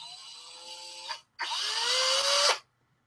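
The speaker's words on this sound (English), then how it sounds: "Let the drill bit catch." Small power drill boring into a miniature model, two high-pitched whining bursts of about one and three seconds with the motor pitch rising and falling, separated by a short pause, close and loud.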